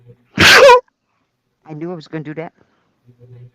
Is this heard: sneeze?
yes